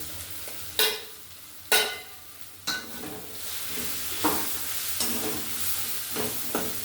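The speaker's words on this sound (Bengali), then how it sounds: "মশলাটাকে ভালো করে একটু জল দিয়ে মশলাটা ভালো করে কষে নিচ্ছি" Ground chilli, meat masala, garam masala, coriander, cumin and turmeric stir-fried with a little water in a village kitchen, loud bursts of sizzling as the spatula turns the paste, each flaring then settling into a steady fry, no voices.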